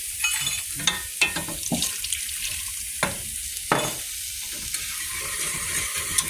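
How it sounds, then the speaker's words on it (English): Onions sauteing in a pot for broccoli cheddar soup: steady close sizzle and frying crackle, with occasional clinks and scrapes of a spoon stirring against the pot. "Onions are sauteing."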